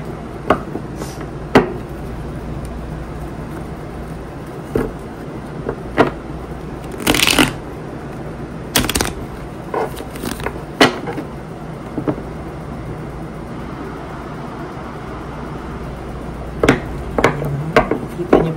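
Playing cards are shuffled and riffled in scattered bursts, with crisp flicking and snapping sounds close by against a quiet background.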